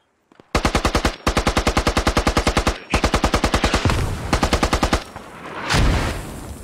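Automatic gunfire rattles in rapid bursts in a war video game, several fast strings of shots close and loud, followed by two heavier booms like mortar impacts near the end.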